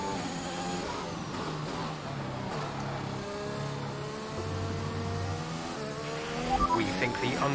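Racing cars at the Spa circuit in a sprint race, engines revving and shifting through gears with rising and falling tones, fairly close and continuous, a louder burst near the end, under faint commentary.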